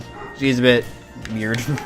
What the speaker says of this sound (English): I'm sorry if you can hear my dog in the background